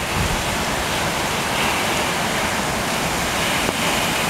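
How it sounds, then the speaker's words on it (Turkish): Heavy downpour driven by strong wind over the seaside town of Mudanya, a dense, steady roar of rain and gusts filling the whole clip without a break, loud and close with no voices. "kuvvetli sağanak aynı anda."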